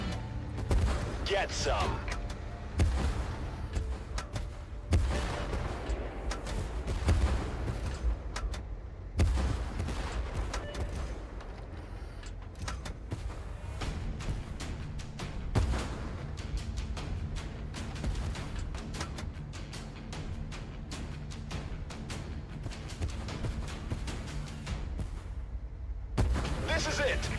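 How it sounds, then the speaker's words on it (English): Heavy artillery bombardment from a World War tank battle game, dense rumbling booms and gunfire bursts running continuously throughout, with voices shouting over the barrage. "Bombardment."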